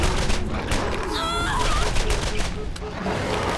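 Rapid gunfire and fiery bursts from the Borderlands video game, as skags are set on fire, play in a dense, continuous barrage with chirping creature cries and a voice over the top.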